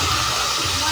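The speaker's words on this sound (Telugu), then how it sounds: "ఇప్పుడు మనం ఇందులోకి ఆనియన్, టమాటో పేస్ట్ అనేది వేసుకుందాం." Onion and tomato paste hits hot oil in a pan while cooking a bendakaya masala curry, giving a short, loud, broad sizzling hiss that stays steady.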